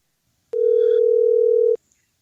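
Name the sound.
telephone dial tone on call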